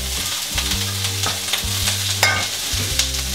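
Raw kale goes into a hot pan of softened green beans for a salad with orange zest and hazelnuts. A loud, steady sizzle runs under repeated stirring and scraping clatter, close by, with no talk.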